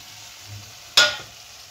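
A spoon stirs spiced banana flower curry, nearly dry, in a pan: one sharp close scrape-and-sizzle burst that fades quickly over a quiet background.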